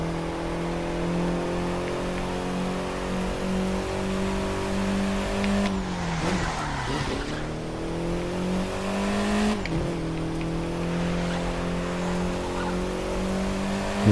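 MINI Cooper S Countryman in The Crew 2 racing game, its engine droning steadily at speed on a Grand Canyon road, with two quick dips as it lifts off and revs back up.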